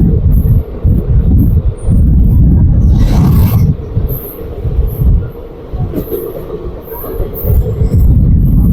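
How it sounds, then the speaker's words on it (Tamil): A train rolls underneath a railway bridge, its wheels and carriages rumbling loud and steady throughout with a faint squeal rising midway, heavy low-end rumble dominating. "ஒரு ரயில்வே பாலத்துக்கு அடியில் ரயில் நுழைஞ்சு போயிட்டு இருக்கு பாருங்க"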